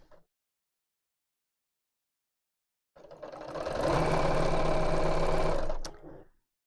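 A sewing machine runs fast and loud, stitching a seam for a fabric bag; after a few seconds of silence the motor whirs up into a steady rapid hum for about three seconds, then slows and stops.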